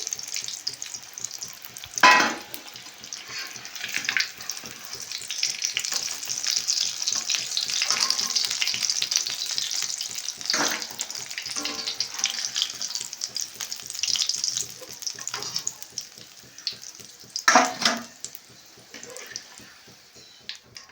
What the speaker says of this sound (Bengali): রুটিটা আমি বেশ ভালো করে উল্টে পেল্টে লাল লাল করে ভেজে নিয়েছি